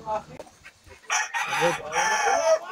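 Gamefowl roosters at a game farm crow and cluck nearby, a few short clucks followed by two loud drawn-out crows.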